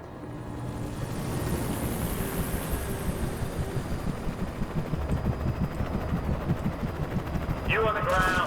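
Helicopters in the video game Alan Wake give a loud, continuous rhythmic rotor thumping that builds and holds, with a brief electronic chirp near the end.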